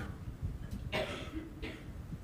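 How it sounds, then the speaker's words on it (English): A few short, breathy coughs, two or three separated by pauses, near and moderately loud over a quiet low rumble. "cough you must if it is coming"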